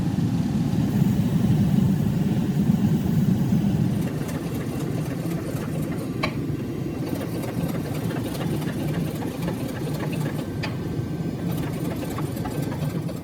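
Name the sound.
hydraulic press forge welding a Damascus steel billet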